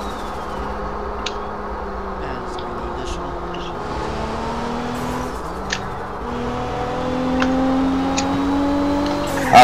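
A speeding white Supra in a video game gives a continuous engine drone that climbs in pitch as it accelerates, over steady background noise with faint clicks.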